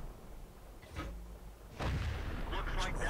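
Tank cannon fire in World of Tanks from an AMX 50 120 tier 9 heavy tank, two heavy booming shots about a second apart, each with a loud rumbling tail, close and dominant.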